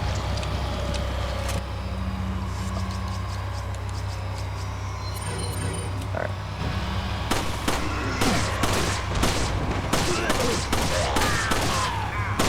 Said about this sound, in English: I'm gonna shoot them all with the shotgun, do damage